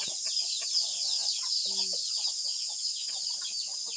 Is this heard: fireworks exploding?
no